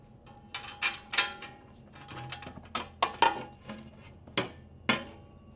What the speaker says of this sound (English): Mount your lower bolts through the bracket.